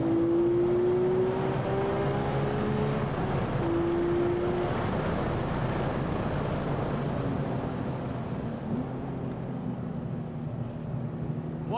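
Porsche 911 991.2 GT3 with manual gearbox, stock, on a cool-down lap around a race track: a steady engine drone and wind rush, revs easing slightly early on, then settling to a smooth cruising hum with no talking.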